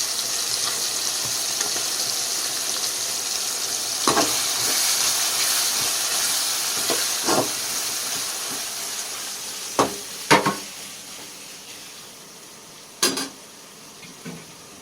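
Grated raw mango and chicken fry in a pan, giving a continuous close sizzle and hiss. A few sharp clatters of a spoon against the pan come at irregular moments, and no one speaks.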